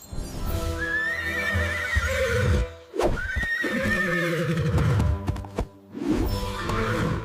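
A horse neighs loudly and close, with several long, quavering whinnies in a row, the last ones broken by short pauses and faint hoof taps.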